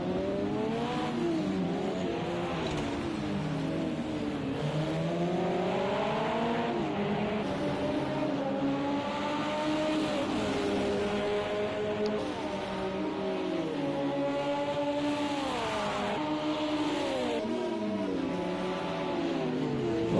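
LMP2 and GTE class endurance race cars on a circuit in an International Le Mans Series round, engines howling steadily with rising and falling pitch as several cars pass and shift gears, loud and continuous without speech.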